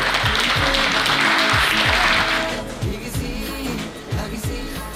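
Audience at a retirement ceremony applauds, a dense burst of clapping over repeated low drum-like thumps that fades out after a couple of seconds.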